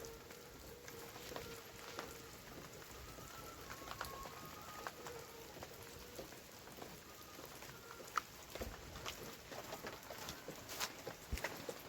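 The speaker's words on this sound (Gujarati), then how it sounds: "વરસાદ થઈ ગયો ચાલુ." Steady rain patters on surfaces outdoors, a soft continuous hiss broken by scattered sharper drip ticks, faint and even throughout.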